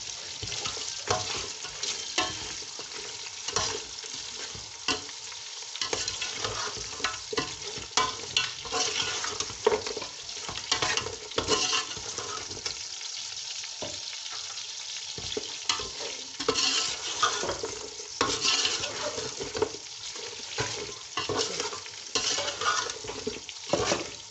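Cumin, bay leaves, green cardamom, star anise and other whole spices fry in oil in a pan for white pulao, giving a steady close sizzle with frequent stirring scrapes and faint water sounds throughout.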